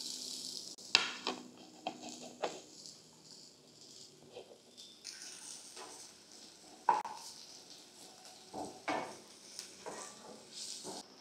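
Onion and grated garlic frying in oil in a wok make a low sizzle, broken by intermittent stirring scrapes and knocks of a utensil against the pan, quiet and close with no voices.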